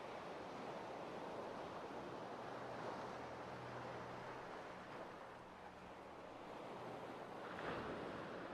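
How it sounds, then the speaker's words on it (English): Ocean waves close out a song, a continuous low roar of surf with gentle swells and no voices. "I love hearing the waves again at the end"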